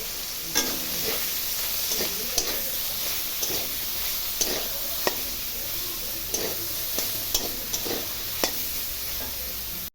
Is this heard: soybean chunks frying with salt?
yes